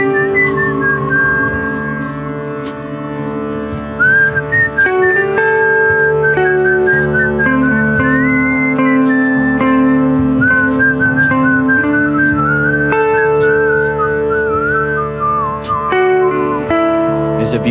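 Audience members at a kirtan storytelling performance whistle a wavering, flute-like melody over sustained live band drones, bright and steady throughout with a voice occasionally underneath, imitating flute sounds.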